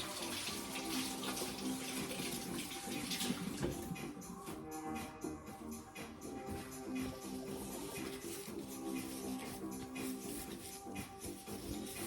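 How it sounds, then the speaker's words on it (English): Hands are washed under a running kitchen tap, with steady water flow splashing and faint rubbing throughout, fairly quiet and continuous. "let's wash our hands once more"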